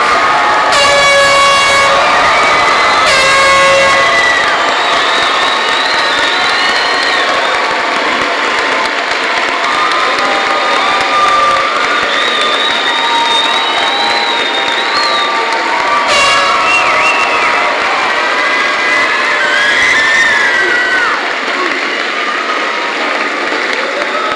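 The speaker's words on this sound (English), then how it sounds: "please join with me as we honor all these wonderful graduates with a well-deserved round of applause" Commencement crowd celebrating graduates with loud cheering and applause, punctuated by repeated blasts of an air horn and scattered shouts that rise and fall over a continuous roar.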